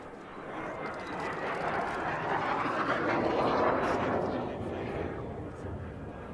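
A loud jet engine roars steadily, swelling to a peak midway and easing off slightly, with no voices.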